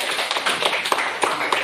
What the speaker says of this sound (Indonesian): Ya, kita tepuk tangan.